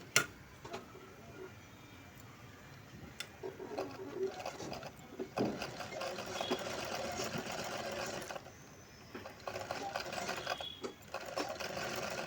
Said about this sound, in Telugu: ఇలా థ్రెడ్ పక్కనే కుట్టు పడే విధంగా కుట్టుకుంటూ రావాలి